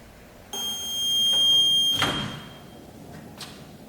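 A fire alarm receiver sounds a steady electronic buzzer tone for a couple of seconds when a firefighter's handset jack is plugged in, with a click and a brief clatter partway through.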